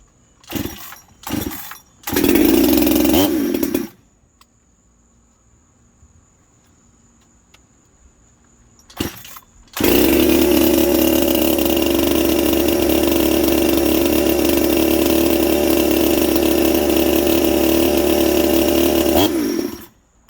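Small two-stroke engine on a Husqvarna 372XP-based Ironhorse-inspired chainsaw build pulls over in a few short bursts, then fires up and runs loud and steady at a high, buzzing idle for about ten seconds before cutting off.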